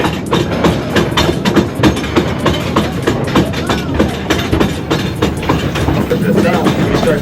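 A loud, continuous rattling clatter from an amusement park train rolling along its tracks at Silver Dollar City's Marvel Cave, with rhythmic clickety-clack and a rumbling undertone.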